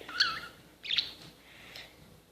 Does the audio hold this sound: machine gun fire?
no